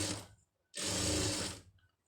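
A sewing machine stitches designer blouse fabric in two short bursts, a quick whir, a pause, then a longer mechanical run that stops abruptly, heard up close.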